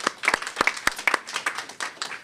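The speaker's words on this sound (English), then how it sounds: "give them a round of applause, too" Applause from an audience at a mayoral press event on school assessment results, a short burst of scattered clapping heard alone.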